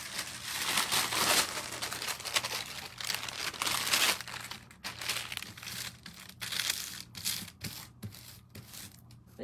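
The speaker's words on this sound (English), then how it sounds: "let me get my parchment paper." Parchment paper crinkling and rustling while being handled in a kitchen, quiet and close, with irregular bursts of crackle followed by sharper intermittent crumples and pauses.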